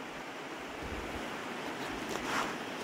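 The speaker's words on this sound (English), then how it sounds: "And there's the beach with all the rocks" Surf washes onto a rocky beach near where a river splits. The waves make a steady, broad rush, with wind buffeting the microphone and a swell growing slightly louder toward the end.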